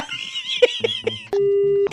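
A phone call ends with a short series of electronic beeps followed by a sustained steady disconnect tone lasting about half a second, clear and close, with a voice speaking just before it.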